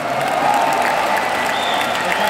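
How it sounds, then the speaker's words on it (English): Arena crowd at a metal concert in Birmingham, England, applauding and cheering in a dense, steady roar, with whistles rising over the sustained wash of clapping. "Everyone here, give yourself a big fucking round of applause"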